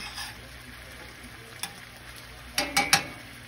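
A spoon stirs melting butter in a pan while grits are being made, with a faint sizzle throughout and three sharp scraping clinks close together near the end.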